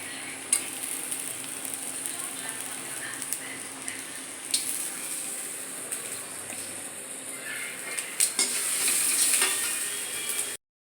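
Onion and green chilli sauté in a pan for a raw jackfruit stir-fry, a steady close sizzle running throughout with occasional scrapes of stirring and a louder burst near the end.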